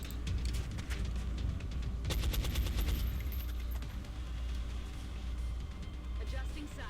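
Rapid gunfire bursts crackle in the video game Tibbs' Unknown Enemy, a tight volley of repeated shots standing out over a low rumbling background while a person talks.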